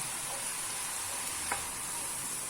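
Liquid sizzles steadily while deglazing a hot pan, a constant hiss with a faint scrape of stirring partway through.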